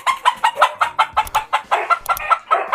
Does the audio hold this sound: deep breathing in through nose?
no